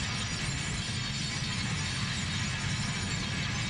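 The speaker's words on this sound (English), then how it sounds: "it sounds like millions of glass pieces are just like, you know, breaking apart" Dense, steady wash of crackling, tinkling debris as countless glass pieces shatter and break apart in the video game The Lady, a continuous loud roar of fragments with no pauses or speech.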